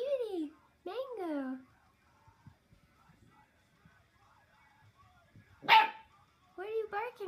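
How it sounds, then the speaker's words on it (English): A small dog gives high, yelping barks nearby, a few in a row with pauses between, alongside quiet rustling and a short sharp clatter. "What are you barking at?"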